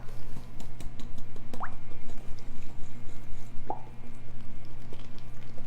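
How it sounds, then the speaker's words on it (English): Whisk beating cornbread muffin batter of self-rising flour, self-rising cornmeal and cooking oil in a bowl, a fast rhythmic wet slapping and plopping over a steady low hum. "Now let's just take a whisk and mix it up."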